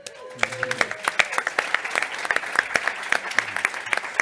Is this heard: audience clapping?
yes